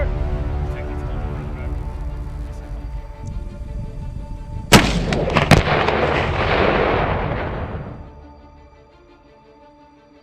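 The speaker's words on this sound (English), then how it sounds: "Ukrainian troops destroy Russian tanks in Swedish AT4 rocket launch fire." AT4 rocket launcher fire and gunfire in combat footage of Ukrainian troops attacking Russian tanks: a sharp blast followed by a roaring rush that fades over a few seconds, over a steady background hum.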